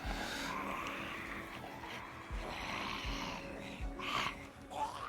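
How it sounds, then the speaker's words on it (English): A loud truck engine in the zombie survival game Build 42 drones steadily and continuously, with a low throbbing rumble and some harsher bursts near the end. "I think I once again underestimated how freaking loud that truck is."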